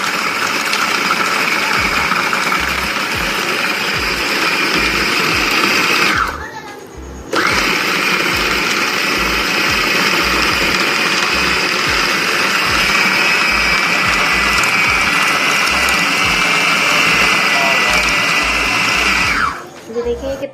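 An electric food chopper blitzes a chicken mixture for nuggets with a loud, steady motor whine. The motor cuts out twice, around 6.5 and 19.5 seconds, and the run restarts after the first stop.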